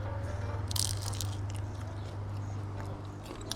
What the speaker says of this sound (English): Lots of crunch,